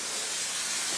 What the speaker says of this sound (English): So I like to hit it with a little bit of spray goo first.